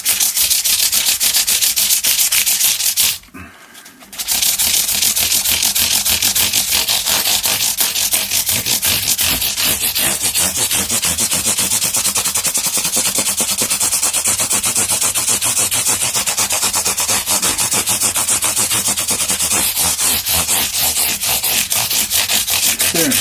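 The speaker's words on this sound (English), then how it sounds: "I'm going to switch to using this shaped foam block so that I can just sort of run it up and down like this" A shaped foam block wrapped in fine-grit sandpaper rubbed up and down a Squier Standard Telecaster neck, a loud continuous rhythmic scratching with a brief pause early on, then steady back-and-forth strokes.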